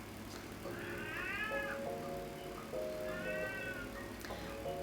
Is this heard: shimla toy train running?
no